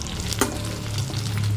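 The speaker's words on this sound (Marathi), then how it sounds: "तेलावरच आपल्याला शिजवून घ्यायचंय. फक्त झाकण ठेवायचं बारीक गॅस करून" Stuffed eggplants cooking in oil on low heat under a lid in a pan, a steady close sizzle with one brief clink, no talking.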